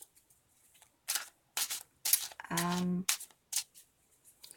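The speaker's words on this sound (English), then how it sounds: "So I'm just shuffling because I inadvertently start doing that" A deck of playing cards being shuffled by hand during an unboxing, heard as a few short, crisp riffling bursts close by, with a brief hummed tone in the middle.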